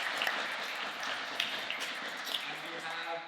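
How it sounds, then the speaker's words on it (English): Steady audience applause at a stand-up comedy workshop in Iceland fills the room: dense, continuous clapping from a nearby crowd with a few sharper claps, and voices mixed underneath. "Let's give them a round of applause."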